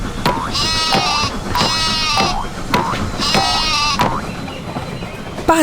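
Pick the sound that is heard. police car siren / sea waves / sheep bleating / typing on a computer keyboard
sheep bleating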